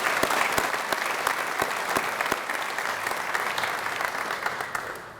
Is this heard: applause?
yes